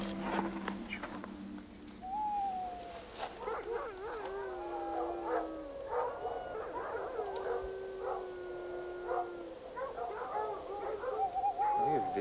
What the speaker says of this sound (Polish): Wycie. Wycie. I to dosyć niskie. To wilk, tak?